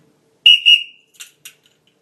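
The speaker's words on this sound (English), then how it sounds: "A second set of whistles will start the jammers in motion." Two quick, sharp referee whistle blasts start the jammers at a roller derby bout, followed by faint crowd shouts in the background.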